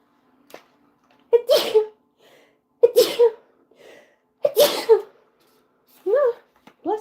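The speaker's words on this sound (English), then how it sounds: "My throat's starting to itch. I'm going to sneeze." Three loud, close sneezes from one person, spaced about a second and a half apart in an otherwise quiet room, followed by a brief voiced sound.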